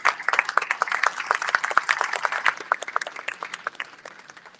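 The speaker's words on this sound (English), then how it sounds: "Round of applause for him." An audience at a Houston book event applauds, dense overlapping hand claps that build quickly, stay steady and then begin to thin out toward the end.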